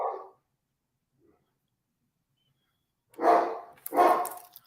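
Three separate barks from a pet dog: one short bark at the start, then a long silence, then two louder, fuller barks close together near the end, close to the microphone with no voices.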